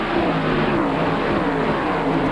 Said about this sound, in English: these cars this year make a totally new sound. They got the V8 engine in them versus the 6-cylinder from last year.